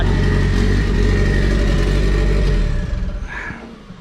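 A car engine idles steadily and loud nearby, then drops away toward the end, leaving a quieter hum.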